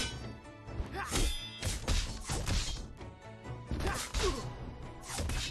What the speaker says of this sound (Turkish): Şişe elimde patladı.